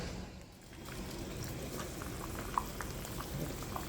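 Water bubbles and simmers in a pot of breadfruit, a soft, continuous gurgle at low volume with a few small clinks and splashes.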